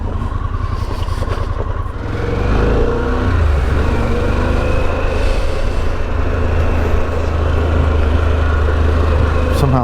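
A motorcycle on a Pan-Am ride rolls over loose gravel with a steady engine drone that swells as the throttle opens, alongside constant wind rush and the crunch of rolling rocks.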